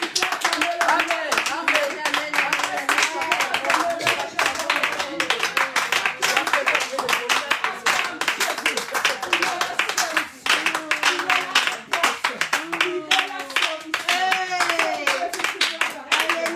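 A church congregation claps steadily together in rhythm, with voices and cheering mixed throughout the dense, continuous applause.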